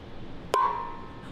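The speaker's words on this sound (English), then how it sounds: "And here's the gong with the mystery tape." A gong damped with vibration damping tape is hit once, producing a short, dull ping that dies away within a fraction of a second, alone with no talk.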